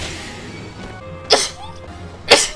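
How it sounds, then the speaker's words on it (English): Two sharp, explosive bursts about a second apart, close and loud, like sneezes, with low background noise between them. "I hate sneezing."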